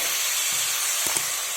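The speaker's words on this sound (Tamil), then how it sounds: "இப்போ கொஞ்சமாக தண்ணி ஊற்றிக்கிறோம்," Water splashed into a hot pan of fried spices gives a loud, steady hiss close by, with a few faint knocks underneath and no voices.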